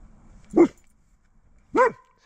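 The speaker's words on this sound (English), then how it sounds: "He starts barking." A dog gives two separate barks about a second apart, each short and fairly loud and close, with quiet between them.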